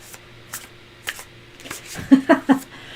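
Several quick papery riffles and snaps of playing cards being shuffled, close up, growing louder toward the end.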